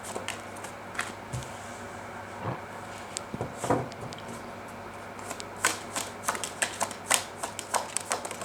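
Tarot cards are shuffled and drawn close up, giving soft riffling flutters and sharper card snaps in quick, irregular bursts against a quiet room hum.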